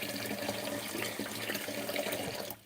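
Cold water runs steadily from a kitchen tap into a sink or bowl, a continuous gentle splashing flow that stops abruptly at the end.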